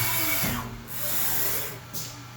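A Haas CNC machine moves its axes to a coordinate position, a loud steady motor whine and whir that rises and shifts in pitch as it travels, no talking.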